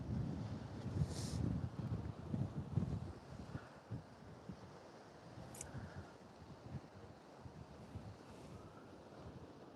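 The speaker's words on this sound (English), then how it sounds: "I am facing right into the wind." Strong wind buffets a microphone on the Blackpool seafront, a low rumbling roar that surges loudest in the first few seconds and then settles into a steady gusting blow, with faint surf in the background.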